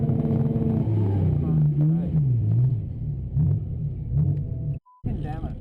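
A Skyline drift car with an RB30 engine hammers against its rev limiter, a rough, wavering rumble held near one pitch with a short cut-out near the end, while voices talk over it.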